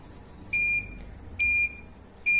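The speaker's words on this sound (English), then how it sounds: "So now to start with the vortexing, you have to press the start stop button. So it starts to vortex." Multi-tube laboratory vortex mixer giving three loud, evenly spaced electronic beeps of about a quarter second each over a faint background hum, signalling the end of its run.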